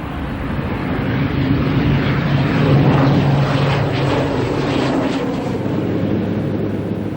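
Propeller airplane in Iceland drones steadily and loudly throughout, with a broad, constant engine roar that swells slightly in the middle, and no voices.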